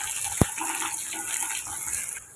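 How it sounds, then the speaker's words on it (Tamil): Onions and two green chilies sautéing in a pan for a quick vegetable kurma, a steady hiss of sizzling oil with a single sharp clink near the start, no voices. "இப்போ வெங்காயத்தையும் சேர்த்துக்கோங்க சேர்த்துட்டு காரத்துக்கு ரெண்டு மிளகாய் எடுத்துருக்கேன் அதையும் சேர்த்துக்கோங்க சேர்த்துட்டு இதை வதக்கி விட்டுக்கலாம்"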